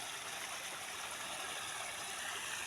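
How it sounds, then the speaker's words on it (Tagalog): A stream flowing outdoors in a rural area, a steady, moderately faint rushing wash of water that stays even throughout with no talk. "So nandito na po tayo at tatawid tayo sa sapa."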